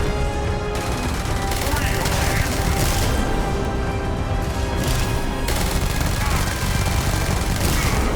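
Gunfire from a weapon in the Starfield video game pounds in loud, dense, continuous bursts throughout, with other game noise mixed in.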